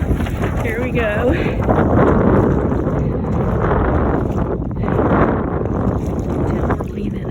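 Hobie sailing kayak out on open water with wind filling the sail, a loud rushing wind and water wash buffeting the microphone continuously, while a voice speaks briefly.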